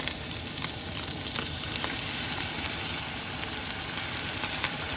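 Mushrooms and scrambled eggs fry in a pan on a van stove, giving a steady, close crackling sizzle that holds evenly throughout with small pops and no voices.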